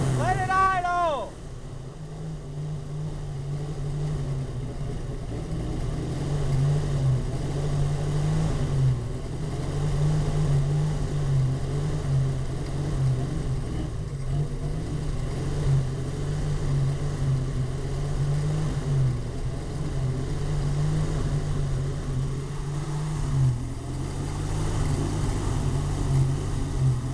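A 1968 Ford engine with ignition points idles steadily in the rain, a low continuous rumble held close and even throughout, with brief voices over it near the start.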